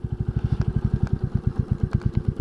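A Royal Enfield 350 Classic 2022 motorcycle engine idles close by with a steady, deep, rapid thump-thump beat and a slight mechanical clatter.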